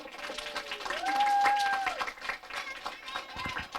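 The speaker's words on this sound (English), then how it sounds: "So, let's give them a round of applause, too." An audience at a school Veterans Day event applauds teachers from military families, with cheering and a high whistle over continuous clapping at moderate distance.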